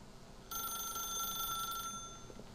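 A game telephone in The Stanley Parable rings with a bright, steady electronic trill that starts suddenly, holds for over a second, then stops, alone over a faint room hum.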